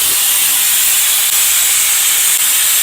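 A pressure cooker cooking chicken sambar vents steam through its whistle in a loud, continuous, close hiss that holds steady throughout.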